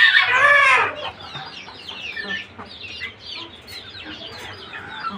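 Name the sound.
chickens clucking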